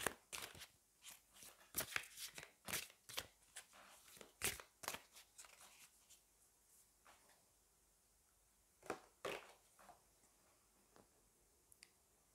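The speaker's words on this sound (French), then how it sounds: "Je vais aller prendre une autre carte." Tarot cards handled and one drawn from the deck during a reading, giving a string of crisp, close snapping and flicking sounds that are loud at first and then thin out into sparser taps.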